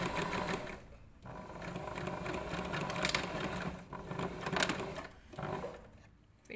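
A sewing machine stitches a fabric pencil case closed, running in loud close mechanical bursts with a buzzing needle rhythm, pausing briefly between runs and ending with a short reverse.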